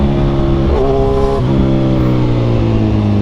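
Loud, close drone of a Kawasaki Z1000 Sugomi's 1000 cc inline-four pulling hard in third gear through city traffic, its pitch climbing, briefly wavering midway, then climbing again.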